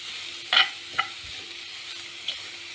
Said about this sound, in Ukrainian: додаємо грибочки. Перемішуємо.